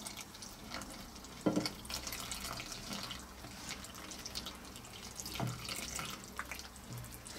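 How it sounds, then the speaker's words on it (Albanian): Water poured into a bowl of starch and sugar, a soft steady trickle with a few small splashes, close and fairly quiet, with no talking. "Dhe tani do të shtojmë ujin."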